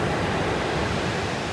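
Ocean breakers crash onto a beach in Olympic National Park, a close, loud, continuous wash of surf with a hint of wind, and no voices.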